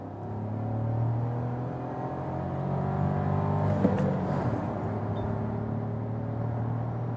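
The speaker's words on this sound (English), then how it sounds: "show you something of acceleration, 50 to 100" An Audi Q2 (2021 update) accelerating hard from 50 to 100 km/h, a steady engine drone and road rumble rising slightly in pitch, heard from inside the cabin with no talking.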